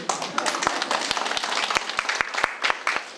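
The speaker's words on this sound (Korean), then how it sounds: "맞으면 박수 한번 쳐주세요" Scattered clapping from an audience of elderly listeners at a Korean political campaign speech, uneven individual claps rather than a full ovation, moderately loud with a busy crowd murmur underneath.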